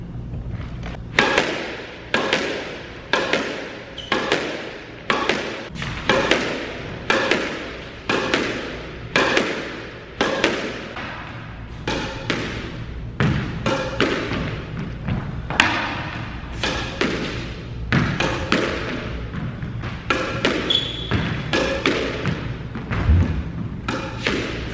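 Tennis ball struck with a Dunlop Hyperfibre XT Revelation 125 racket: a long series of sharp, evenly spaced thwacks about every second in a rally, each followed by a brief ring-out.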